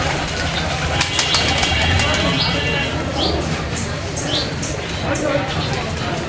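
Pigeons cooing at a morning feeding, soft repeated coos amid a busy background of shuffling and wing movement, with a few sharp clicks early on.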